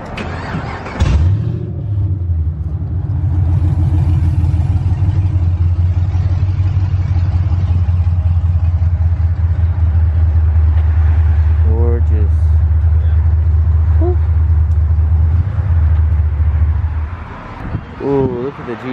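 A Ford Shelby GT350R at a car meet starts up and settles into a deep, loud, steady engine rumble close by, holding for many seconds before fading out, with voices talking around it.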